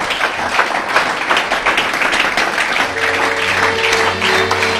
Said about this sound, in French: Acclame-le très fort encore.